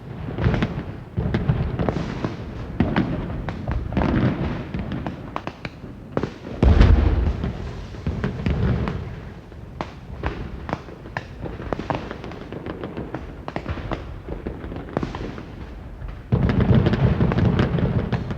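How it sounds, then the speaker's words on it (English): Fireworks bursting at the Edinburgh festival, a steady run of loud booms and crackles at close range, with heavier detonations now and then, a dense barrage near the end and no voices. "Along with the fireworks, festival audiences see one of the most moving and rousing ceremonies in Europe"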